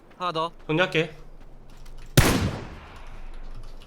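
A single sharp, loud rifle shot from an M4 or M16 in PUBG rings out after a stretch of voices and fades over about a second, with faint background noise continuing.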